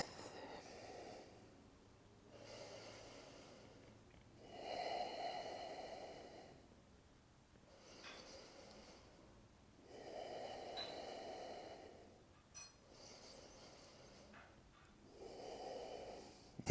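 Slow, deep breaths during a yoga stretch in a men's class, each long inhale and exhale rising and falling in a steady rhythm about every three to four seconds, close and soft, with no talking.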